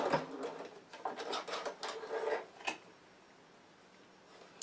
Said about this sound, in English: I'm just going to stitch along the line that I've drawn.